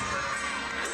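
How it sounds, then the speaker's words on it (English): Crowd in an arena cheering at a college gymnastics meet after a floor routine, a sustained dense roar of many voices for a brief moment. "The crowd is on their feet."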